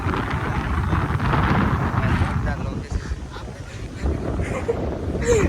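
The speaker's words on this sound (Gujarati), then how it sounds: "અત્યારે પવન કેવો પવન છે" Strong wind buffeting the microphone on a roadside stop after a Bullet motorcycle broke down, a loud continuous rumble with people talking over it.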